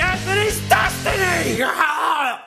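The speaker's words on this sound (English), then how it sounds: "Too much screaming." Loud, strained screaming and yelling from a voice in a food battle announcement, sustained and wavering over a couple of seconds, close and harsh, fading out at the end.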